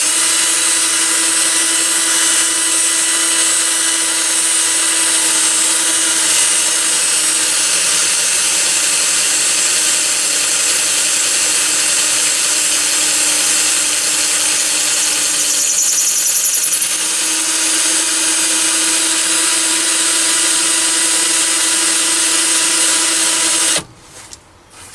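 A lathe spins a high-speed steel drill into Delrin plastic, a steady, loud mechanical whine with a constant tone that runs unbroken for most of the clip, then cuts off abruptly at the end.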